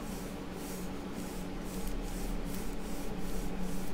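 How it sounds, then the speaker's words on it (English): Steady, continuous rubbing hiss of a roller being pushed across a crackle-technique craft piece dusted with gray powder, close and even with a soft pulsing rhythm, no voices. "I'm not going to roll pressing down I'm going to rub"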